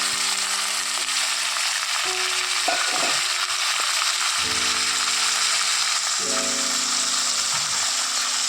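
Boiled beef going into a pan of sizzling curry leaves, a constant crackling fry under scraping and clattering stirring, with bursts of sizzle as the meat hits the hot oil.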